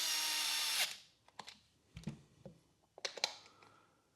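A DeWalt 66719 cordless screwdriver on torque setting 3 whirs briefly at high pitch, then its clutch slips in a series of sharp ratcheting clicks and taps as the screw reaches tightness.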